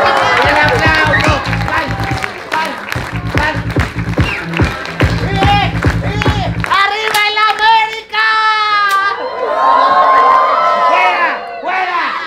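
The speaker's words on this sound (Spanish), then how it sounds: "¡El aplauso!" Clown show audience in Puebla erupts in rhythmic clapping and cheering alongside loud playback music and a voice over a sound system, shifting to whistles and shouts near the end.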